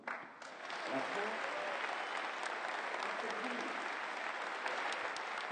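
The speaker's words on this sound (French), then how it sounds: "Des applaudissements et même des chefs d'entreprise debout à l'issue du discours de Manuel Valls" Sustained applause from business leaders after Manuel Valls' speech at the MEDEF summer university, a dense, even wash of clapping from a large seated hall, heard at a distance.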